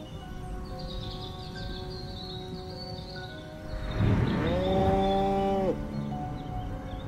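A cow in the video game Destroy All Humans lets out a single long, loud moo partway through, rising then holding steady over a low background hum with faint insect-like chirping.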